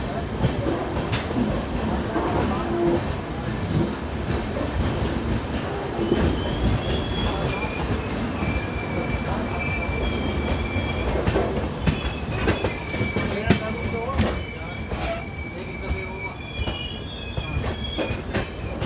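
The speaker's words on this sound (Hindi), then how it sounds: "और अभी हम लोग इंटर कर रहे हैं हुबली जंक्शन।" A passenger train entering Hubli Junction, with loud continuous rail rumble, clattering wheels and repeated high wheel squeals as the cars roll through at close range.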